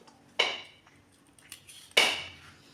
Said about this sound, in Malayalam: എൻ്റെ മോൻ തേങ്ങ പൊട്ടിക്കുന്ന സൗണ്ടാണ് കേൾക്കുന്നത്